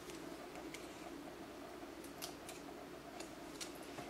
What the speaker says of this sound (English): I'm just going to take my paper snips and snip these 2 pieces right here that didn't get cut.